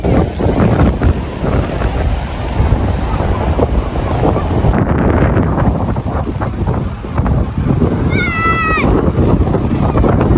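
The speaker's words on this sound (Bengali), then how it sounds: "বাতাসের বেগটা এত বেশি ছিল যে এখানে বসে থাকা বা দাঁড়িয়ে থাকা অসম্ভব ব্যাপার হয়ে দাঁড়িয়েছে" Strong wind batters the microphone on a UK beach, a loud, constant roaring buffet with surf mixed in and a brief high cry near the end.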